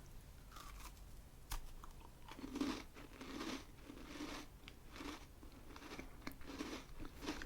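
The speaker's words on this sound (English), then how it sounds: "Lovely delicate crunch." Soft, delicate British biscuit being bitten and chewed close up, with repeated gentle crunches and mouth sounds over a quiet background, no talking.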